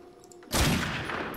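Gunfire from The Darkness II, fired to shoot out lights: a sudden loud burst of rapid shots after a quiet lead-in, sustaining as a dense crackling volley close up with no talk.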